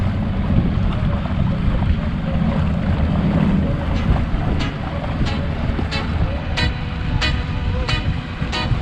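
A motorboat cruises slowly across a bay, its engine droning low and steady under wind and water rush, with a few faint knocks or clicks toward the end.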